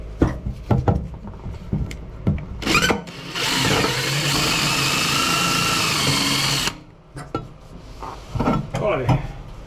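A power drill drives screws into wood during reassembly of an MCI bus washroom. It gives one sustained, loud whirring burst of about three seconds, set between scattered knocks and clatter of handling parts.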